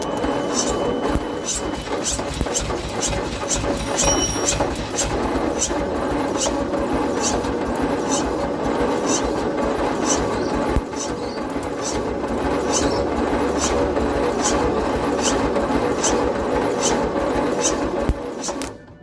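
An old Leyland COE cab-over truck engine sputters roughly through a brief run, a dense mechanical clatter with rapid regular ticking, steady and close for most of the stretch before it stops.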